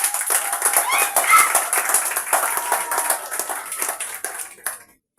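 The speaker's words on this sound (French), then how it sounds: "Je vais vous demander d'applaudir pour elle." Audience clapping at an award ceremony for holistic medicine, a dense room-wide applause that runs steadily for several seconds, then fades out near the end.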